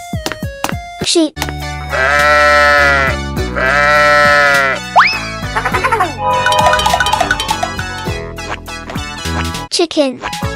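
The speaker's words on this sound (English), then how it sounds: "Sheep." Sheep bleat in an animated animal sequence, with drawn-out, wavering cries mixed among other cartoon sounds and voices, loud and close.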